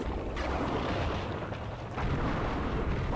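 An enemy blows up in Final Fantasy Crystal Chronicles with a dense, rumbling burst that fills the whole stretch, swells again near the end and stays loud and close throughout.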